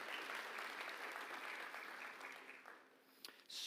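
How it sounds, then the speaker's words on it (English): An audience at a startup showcase gives sustained applause, fairly distant and soft, steady clapping that fades out toward the end. "a big round of applause to the Wood Foundation who continue to fund us"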